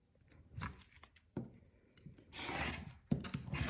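A cutter trims the edges of a fabric quilt block of half-rectangle triangles, giving a few soft, close scraping strokes separated by brief pauses in a quiet room.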